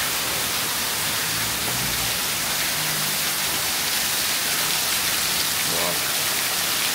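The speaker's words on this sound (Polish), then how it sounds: "ogólnie to tak leje, że świata nie widać" Heavy rain pours down steadily on a house with no gutters in Khao Yai, Thailand, making a dense, constant hiss of water that stays loud and even throughout.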